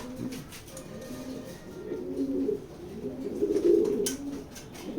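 Black racer pigeons coo in a loft, low rolling coos repeating every second or so, soft and close over a faint noisy background.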